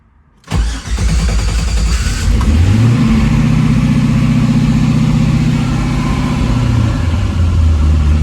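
A car engine cold-starts after a couple of days sitting: a sharp crank catches, then settles into a loud, steady close-up idle with a low droning rumble.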